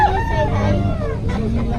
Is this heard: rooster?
yes